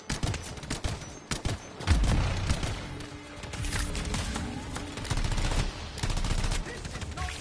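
Video-game gunfire on PS4, dense bursts of rapid shots and machine-gun rattles crackling in clusters, loud and close, with brief pauses between volleys and some voices.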